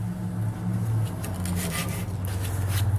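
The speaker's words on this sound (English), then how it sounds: "What I've done is taken this old file and then I just wrap some sandpaper around here so I can put more pressure on." Sandpaper wrapped around an old file rubs steadily along a knife blade, a close, continuous rasping scrape with a faint low hum underneath.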